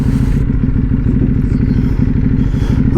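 A 2015 Ducati Hypermotard 821 motorcycle engine runs close and loud at a steady idle, its even, throbbing pulse continuing unbroken for the whole stretch.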